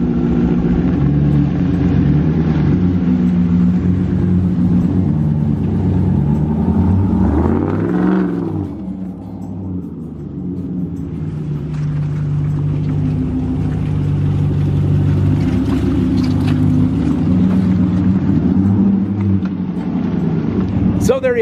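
2019 Ram Rebel truck in 4x4 driving through mud, its engine revving loudly and steadily with surging and dipping pitch, close and continuous, with a brief lull midway and some engine roar toward the end.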